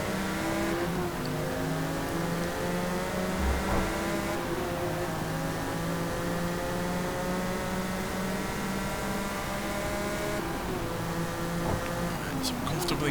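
Mid-engine race cars, including a Ferrari F50, roar around a track in Forza Motorsport, with engines revving and shifting continuously and a voice talking over the din.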